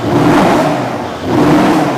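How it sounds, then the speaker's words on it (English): A 2015 Mercedes-Benz S550 Coupe with a performance exhaust revs up loudly nearby, a full steady engine roar that dips briefly and then rises again. "It's got a magnificent exhaust note to it."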